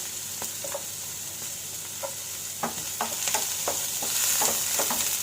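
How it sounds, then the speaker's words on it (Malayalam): Onions sauté in a pan with a soft continuous sizzle, while a spoon scrapes and stirs in irregular taps and strokes near the mic. "ജസ്റ്റ് ഒന്ന് ഇതുപോലെ ഒന്ന് വഴന്ന് കിട്ടിയാൽ മതി ഉള്ളി."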